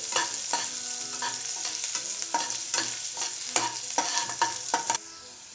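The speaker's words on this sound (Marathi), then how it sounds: "आता कांदा परतलेला आहे." Finely chopped onion sautés in a pan for the potato filling of aloo methi paratha. Up close, a steady sizzle runs under repeated scraping stir strokes until the stirring stops near the end.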